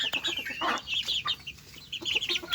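Two-month-old chicks clucking and peeping close by, a busy overlapping chatter of short calls that continues throughout.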